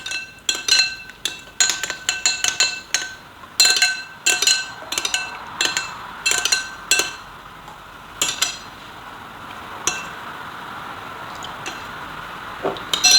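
A spoon clinks repeatedly against a glass while stirring homemade castor oil hair oil, giving bright, irregular taps in quick bursts over a soft background hiss, with no one talking.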